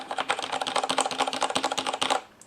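Rapid typing on a Roccat Ryos MK mechanical keyboard with Cherry MX Black switches, a fast, even patter of soft, muted keystrokes without clicks, close and steady, tapering off at the end.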